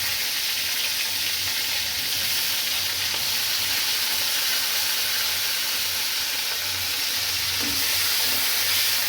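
Tomatoes go into a pan of dal cooking with papaya, giving a loud, continuous frying sizzle and hiss with a little stirring underneath, no voices over it.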